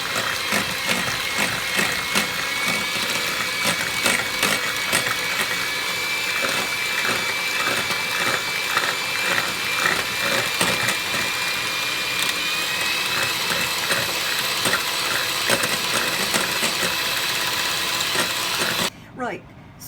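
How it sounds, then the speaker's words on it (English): An electric whisk beats sugar into a chocolate pudding mixture, a continuous buzzing whir with rattling clicks against the bowl, running steadily for most of the stretch before stopping near the end. "Let's whisk that."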